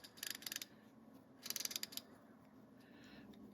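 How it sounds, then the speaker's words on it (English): A refurbished Plomb ratchet clicks in two quick bursts of rapid, crisp pawl ticks, close and fairly quiet, with no talking. "I am so surprised at how well this ratchet is doing."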